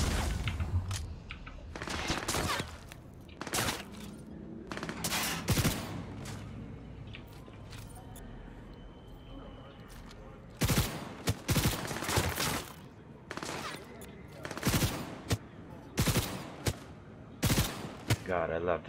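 Bursts of weapon fire in Cyberpunk 2077, loud and close, arriving in irregular volleys of rapid shots with brief pauses between, over a low background rumble.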